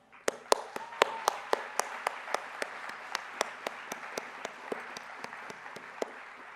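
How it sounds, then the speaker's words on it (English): A graduation ceremony audience gives steady, moderately distant applause, with distinct individual claps standing out over a continuous wash of clapping. "show our gratitude to every supporter we've had throughout our 13-year education journey, with another round of applause for the parents, teachers, and staff"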